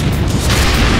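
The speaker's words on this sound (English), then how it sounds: "More explosions." A heavy explosion from a tank battle on a military television program, a loud, deep booming roar that fills the whole short moment with rumbling blast noise and no speech.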